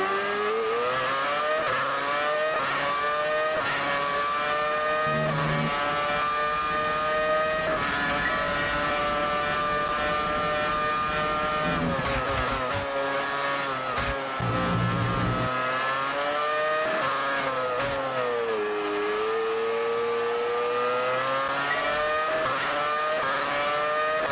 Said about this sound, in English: We're in an old car, old F1 car. Around Silverstone.